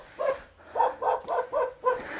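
Dogs barking in a Vietnamese mountain village, a run of five or six fairly close, loud barks in an uneven rhythm with short gaps between them, and no talking.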